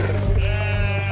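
Sheep bleating in a pastoral cartoon story, a single drawn-out bleat with wavering tone over a steady low background, fairly close and moderately loud with no talk.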